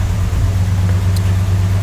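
A 1968 Chevrolet Impala engine runs at a steady idle, a constant low hum and rumble heard up close with no other sounds.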